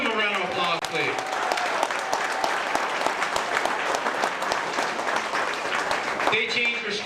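Audience at a school veteran celebration applauding the custodians, dense sustained clapping that stays loud and even from start to finish, with some voices blended into the crowd.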